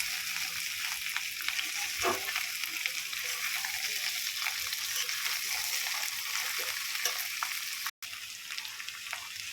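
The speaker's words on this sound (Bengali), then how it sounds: "দেখো আলু আর ভেন্ডিটা ভালো করে ভেজে নিতে হবে।" Potatoes and okra sizzle steadily in a hot pan while being stirred, cooked for a spicy okra jhal; the frying hiss is loud and continuous throughout with no talk over it.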